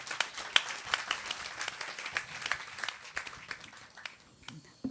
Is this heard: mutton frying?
no